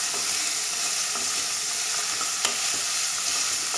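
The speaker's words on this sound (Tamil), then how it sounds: "வெங்காயம் நல்லா வதக்கணும்." Onions stir-fried in a pan for a brinjal gravy, giving a steady, close sizzle with faint scraping stirs throughout and no talking.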